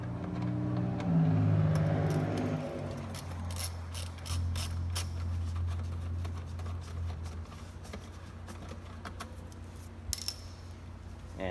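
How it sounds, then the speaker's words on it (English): Clicking of a ratchet fitted with a stubby Phillips bit backing a screw out of the wheel opening molding on a Honda CR-V, sharp close ticks in uneven bursts over a low hum, no speech. "I'm using a stubby Phillips bit on a ratchet"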